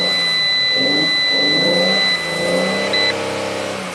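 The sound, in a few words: Ram ProMaster van engine starting and revving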